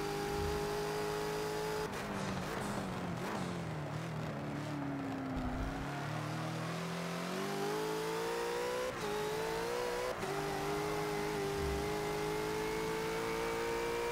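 Bentley GT3 race car engine at the Hockenheimring in Forza, revving loud and close with rising and falling pitch through gear shifts, continuous throughout.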